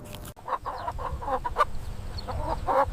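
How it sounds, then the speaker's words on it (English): A medium black farm chicken clucks close by in a series of short, rhythmic clucks, a steady low background rumble underneath. "This is a medium black farm chicken."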